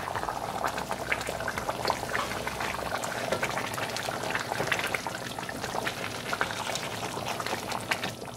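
Chicken curry bubbles steadily in a pot over a medium gas flame, a dense, continuous boil with crowded popping bubbles and no voices.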